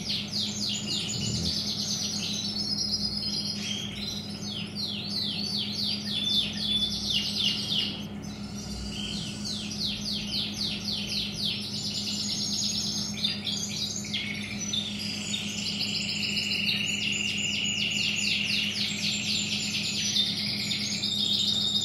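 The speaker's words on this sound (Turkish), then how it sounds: "Elle beslediğimiz yavrular anne altından. 5 tane burada yavru var." Hand-fed canary chicks chirp insistently in a nest, a dense run of rapid, high, repeated begging calls that continues without pause, close to the listener, over a low steady hum.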